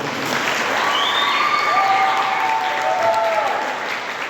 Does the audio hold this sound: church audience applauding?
yes